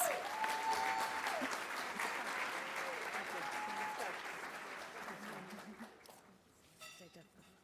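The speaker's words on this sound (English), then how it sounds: "A round of applause, please." Audience gives a round of applause at a Latino leadership panel discussion, steady clapping that tapers off over several seconds, with a couple of faint voices.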